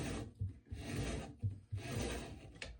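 An Easton 5.0 arrow shaft end being rubbed back and forth in steady abrasive, rasping strokes, close and fairly loud, with short pauses between passes.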